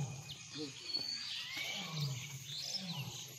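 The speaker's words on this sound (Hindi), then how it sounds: "सुनाई दे रहा है शेर" A lion at a zoo enclosure gives low, grunting roars that rise and fall, moderately distant, with birds chirping faintly over the top.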